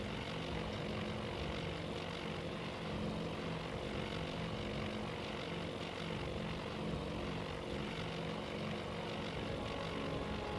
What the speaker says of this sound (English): Still plenty more bombers to set these carriers alight.